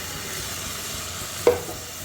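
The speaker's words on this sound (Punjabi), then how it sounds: "ਹੁਣ ਆਪਾਂ ਪਾ ਦਾਂਗੇ ਇਹਦੇ ਟਮਾਟਰ ਚੌਪ ਕੀਤੇ ਹੋਏ" Chopped tomatoes drop into frying masala in a pan with a single sharp clatter over a steady low sizzle, followed by stirring.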